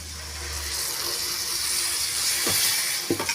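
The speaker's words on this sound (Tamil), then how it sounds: "நம்ம கொஞ்சமாக தண்ணி சேர்த்துக்கலாம்." Water poured into masala frying in a pan, a steady rushing hiss of liquid meeting the hot pan, followed by a few brief clatters near the end.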